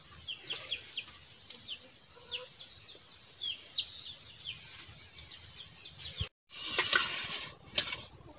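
Several chickens cluck and chirp in short bursts close by at a rural home, soft repeated calls scattered over quiet background, ending in a louder rustle of movement.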